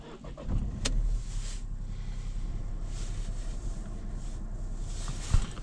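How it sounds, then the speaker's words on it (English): A car engine runs on a cold night before defrosting, a low steady idle rumble with a brief sharp click early on and light wind buffeting the microphone. "first thing we want to do is get the engine running to get some heat into it."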